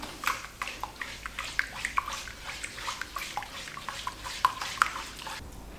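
A spoon stirs ground coffee powder into butter in a bowl, giving soft, irregular scraping and clinking strokes in a quick uneven rhythm, close and fairly quiet with no voices.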